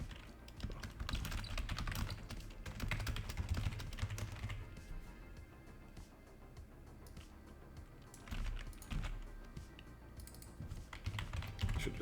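Rapid bursts of typing on a computer keyboard, close and clear, with irregular clusters of keystrokes and brief pauses while coding.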